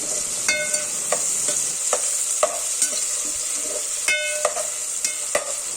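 Onion and tomato frying in a pan for prawn biryani, a steady bright sizzle with repeated scraping clicks of a spoon stirring at an irregular pace, close up and without talking.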